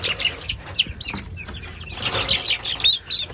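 Young chicks in a cage give repeated high, thin peeps and chirps in quick overlapping bursts, close and fairly loud, with some low clucking and shuffling beneath.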